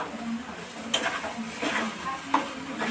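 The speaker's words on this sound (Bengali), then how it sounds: "তো এই দেখো চিনিটা গলা পর্যন্ত সমানে এরকমভাবে একটু নাড়াচাড়া করতে হবে।" A spoon stirs melting sugar in a pan for a hog plum chutney, making soft scraping strokes over a low sizzle, with a couple of sharper clinks against the pan.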